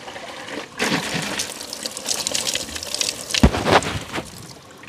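Clear mountain water spilling and trickling close by near a hilltop hut, a steady splashing flow with a stronger gush toward the end, heard alone without talk.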